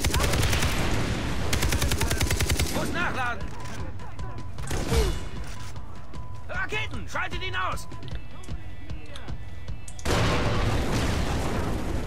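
Rapid bursts of gunfire from the co-op video game Far Cry 3 crackle through a busy mix, with occasional heavier booms and voices talking over the shooting.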